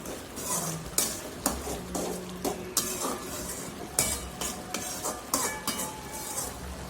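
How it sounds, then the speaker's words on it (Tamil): A pan of mushroom masala gravy simmers and sizzles softly while a utensil repeatedly scrapes and clinks against it in an irregular stirring rhythm, close by. "கிரேவியில் இருக்கிற தண்ணியெல்லாம் கொஞ்சம் கெட்டியாக சுண்டுற வரைக்கும் கொதிக்க வச்சுக்கலாங்க"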